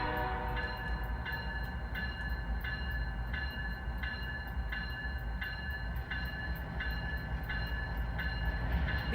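BNSF ES44 locomotive hauling a grain train in a rail simulator, with a steady loud rumble of engine and wagons throughout and a repeating high tonal pulse about once a second, with no talk.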